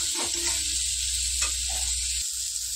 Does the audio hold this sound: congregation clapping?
no